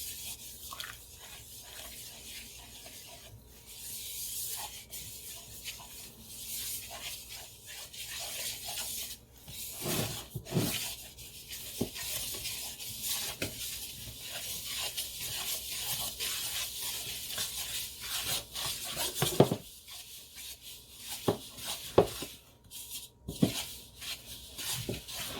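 A spatula stirs flour and water into bread dough in a bowl, making soft, wet scraping and rubbing sounds in uneven strokes, close and fairly quiet, with occasional sharper knocks against the bowl.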